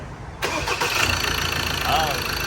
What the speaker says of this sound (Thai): รอ อย่างเดียวคือ สตาร์ทเครื่องยนต์นะครับ